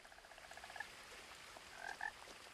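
Frog croaks in the video game What Remains of Edith Finch, a soft rapid series of croaks followed by a couple of slightly louder calls over quiet ambient hiss.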